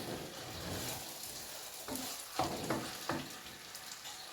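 Green fava beans, onion and green pepper sizzle in a pan, a steady close frying crackle with occasional stirring clinks and scrapes, no voices.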